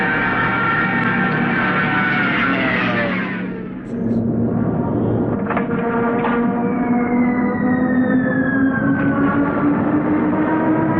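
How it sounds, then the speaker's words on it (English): A World War II Stuka dive bomber's air-driven siren wails as the plane dives toward its target, a loud sustained tonal howl that falls, briefly dips, then climbs steadily in pitch. "When the Stuka dived toward its target, the rush of air through the sirens produced a terrifying wail"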